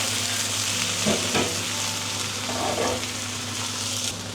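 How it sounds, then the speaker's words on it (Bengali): Cauliflower, potato and flat beans frying together in a pan for a winter vegetable bhaji, a continuous moderate sizzle with a few soft stirring scrapes, no voices. "তারপর ফুলকপিগুলো দিয়ে দিচ্ছি আলু"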